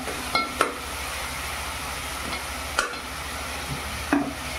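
Masala and softening tomatoes are stirred in a pan for a fish curry, a low continuous sizzle broken by several sharp scraping clinks of the spoon against the pan, close and fairly loud.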